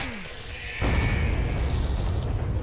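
A grenade explodes in the Henry Stickmin Collection game: a brief falling whistle, then a sudden loud boom with a rumbling, crackling tail and a high ringing tone that lingers before fading.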